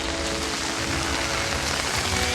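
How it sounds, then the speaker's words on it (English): Steady rain falling outdoors in California, a dense, continuous hiss of drops on surfaces with no pauses, even and fairly soft throughout. "it's raining right now"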